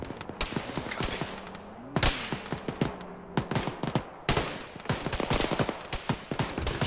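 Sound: machine gun fire in video game (Arma, ShackTac)

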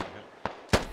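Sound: gunfire in the video game Squad

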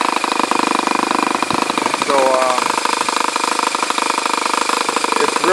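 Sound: OS model airplane engine running rich during break-in on EAA Biplane

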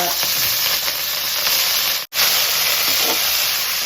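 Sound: mustard seeds and green chili sizzling in hot oil

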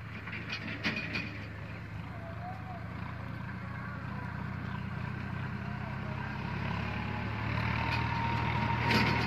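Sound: Swaraj 963 tractor engine levelling field soil

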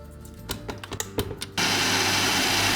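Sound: whisking egg whites with a pinch of salt

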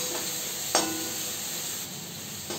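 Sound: ginger garlic paste frying in pan

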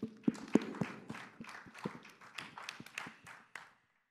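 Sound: children clapping hands

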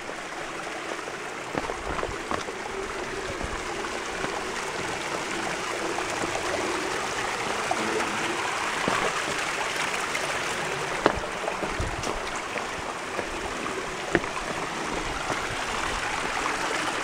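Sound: small waterfall and stream in a canyon

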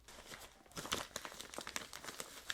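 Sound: opening a parcel, crinkling packaging

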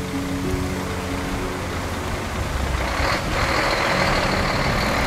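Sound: truck reversing with beeps

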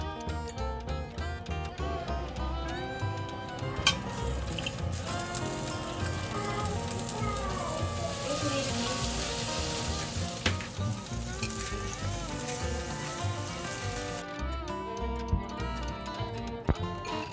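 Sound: salmon pan-frying in a pan

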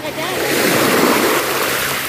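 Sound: ocean waves at the beach

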